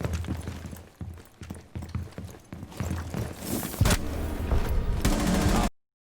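Rapid automatic gunfire from emptying a full magazine in Rainbow Six Siege, a dense run of sharp shots that builds and grows louder before cutting off abruptly near the end; no one talks.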